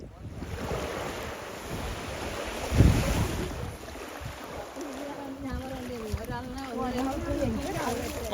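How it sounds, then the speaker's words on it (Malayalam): Kayaks paddled across open water, with steady wash of waves and wind rumbling on the microphone, one louder splash near the three-second mark, and voices talking over the water in the second half. "ഞങ്ങൾ എല്ലാവരും തുഴഞ്ഞുകൊണ്ടിരിക്കും. കയാക്കിങ് അടിപൊളിയായിട്ടുണ്ട്."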